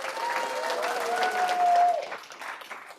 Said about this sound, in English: Round of applause for Kevin.